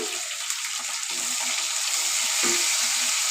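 Tomato, coriander, curry leaves and dry chillies frying in a pan with oil, giving a steady close hiss and crackle throughout, with a brief stir near the middle.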